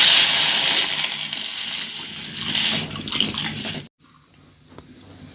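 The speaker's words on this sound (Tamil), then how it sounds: "இதை இந்த கீரைக்கு ஊற்றினா தான் இந்த மண்டி ரொம்ப நல்லாயிருக்கும். ஸோ இப்போ இதில் ஊற்றிடலாம்." Strained rice water being poured into a pot of cooked greens for a kuzhambu, a loud steady splashing pour that runs for a few seconds and then stops abruptly, leaving a quiet kitchen.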